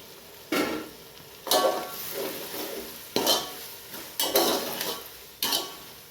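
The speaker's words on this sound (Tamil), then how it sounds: "நல்லா கிளறிக்கலாம்." Beans, carrots and peas frying in a pan for vegetable kuska, with a steady sizzle under five or six distinct scraping stirs of a spoon, each a sharp rasp that fades into the hiss.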